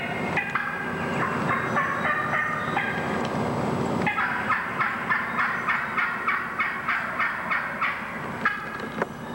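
Wild turkey gobbler in spring woods, gobbling and answering a hen's rapid, clustered yelps in a rhythmic series, close and clear with no talk.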